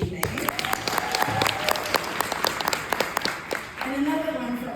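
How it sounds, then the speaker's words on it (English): Audience at a graduation ceremony applauding the evening's performers, a dense, lively burst of many hands clapping nearby that continues for several seconds and then gives way to a voice speaking over the dying claps. "Let's give a huge round of applause for our performers this evening."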